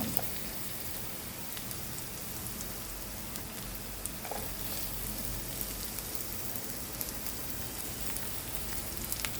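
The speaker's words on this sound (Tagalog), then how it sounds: "when the garlic is done, we can now put the onion." Onion goes into frying garlic in a pan and sizzles steadily, a loud, even crackle like rain that holds for several seconds with faint pops scattered through.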